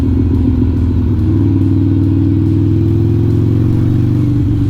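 A Harley-Davidson Iron 883 fitted with a 1200 big bore kit runs on a dyno, its V-twin engine loud and steady with a deep rumbling idle and rising revs throughout, close up and continuous.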